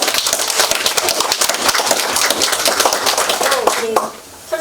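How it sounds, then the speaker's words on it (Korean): An audience at a graduation ceremony for an urban-regeneration video media school applauds the director with loud, dense, continuous clapping that drops away near the end, followed by a brief voice. "우리 감독님 다시 한번 박수 쳐주세요."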